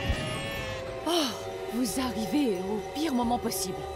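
Sheep in the Trine 3 video game, several wavering bleats in quick succession, close and clear, under someone speaking.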